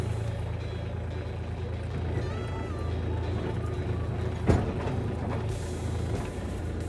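A CORVUS DX4s diesel all-terrain vehicle drives over rough ground and steps, with a steady low engine rumble, a brief thump partway through, and someone talking over it.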